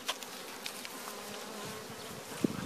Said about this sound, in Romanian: Aici am un roi prins și era pe 2 rame, s-a mai mulțit puțin.